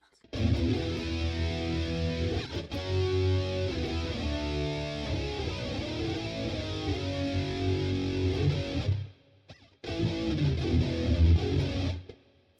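Electric guitar played through a Boss Katana amp patch with a fattened, distorted tone, loud and sustained chords and riffs, briefly cut near the end before it resumes; no talking.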